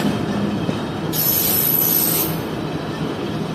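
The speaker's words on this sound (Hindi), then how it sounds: "ये आ गई ट्रेन डाइवर्टेड ट्रैक पर।" A Fareed Express passenger train rolls in on a diverted track, a steady close rumble of wheels on rail with a high squeal of wheel against rail that rises partway through.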